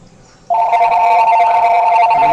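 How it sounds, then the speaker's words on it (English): A telephone rings with a steady electronic tone that starts abruptly and carries on loud and close until the end, with nothing else over it. "that's the phone going off there"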